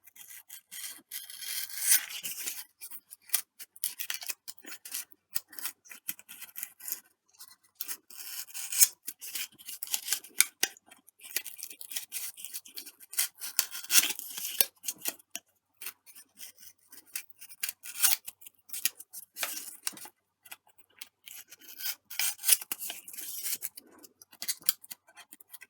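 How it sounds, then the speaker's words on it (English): A blade or sanding tool bevels the edges of a foamboard chuck glider, making quiet, irregular scraping and rubbing strokes in short bursts that continue steadily and close by. "you're gonna bevel every single outside edge"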